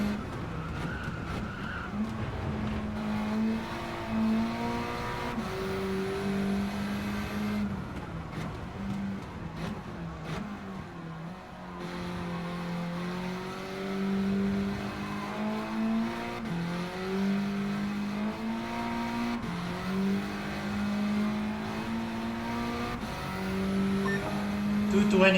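A race car in Gran Turismo 7, with the engine holding steady, droning pitches that rise and fall through gear changes along a straight. It plays continuously and loudly for the whole stretch, with someone talking over it.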